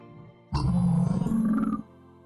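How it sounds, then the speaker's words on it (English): A lion roars once, loud and close, a single sustained deep roar of about a second and a half that stands alone against a quiet background. "L is for lion."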